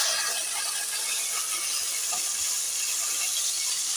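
Chopped mixed vegetables for Kerala-style avial sizzle in two tablespoons of hot oil in a pan, a continuous close hiss and crackle with faint scattered pops, no voices.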